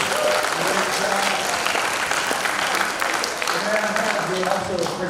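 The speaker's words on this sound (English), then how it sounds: "Guys, can we give them a round of applause, please?" Applause from an audience at a school Shark Tank presentation, a steady burst of many hands clapping close by, with talk over it.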